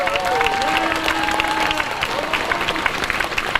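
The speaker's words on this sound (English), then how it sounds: "Clap it up, clap it up, clap it up" Crowd applause at a protest over the misuse of bones of children killed in the MOVE bombing, a dense steady roar of clapping with chanting voices and tonal sounds running through it.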